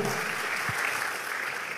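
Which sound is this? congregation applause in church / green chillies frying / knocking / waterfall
congregation applause in church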